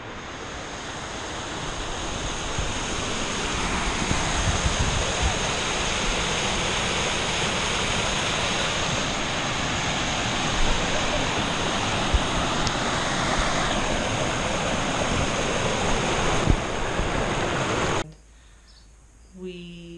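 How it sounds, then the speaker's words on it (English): Miller Falls waterfall at Cutler Creek Trailhead, a loud, steady broadband rush of falling water that continues unbroken before cutting off abruptly near the end. "a absolutely cool waterfall called Miller Falls"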